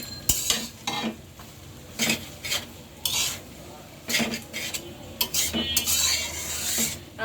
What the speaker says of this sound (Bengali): আমার বাচ্চারা যেভাবে পছন্দ করে সেভাবে আমি ভেজে দিচ্ছি ভাতটা।